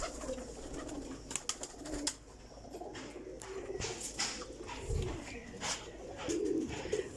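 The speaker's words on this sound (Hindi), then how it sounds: "ए कबूतर आया जी माशाल्लाह।" Golden Teddy pigeons coo softly and repeatedly, with scattered fluttering and clattering sounds from a loft. The sound is faint and continuous, with a little voice in the background.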